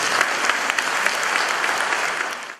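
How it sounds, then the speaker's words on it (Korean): An audience bursts into applause, a close, dense, even roar of many hands clapping that holds steady for a couple of seconds before tapering off. "이건 박수 쳐줘야 돼"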